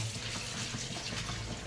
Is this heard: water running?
yes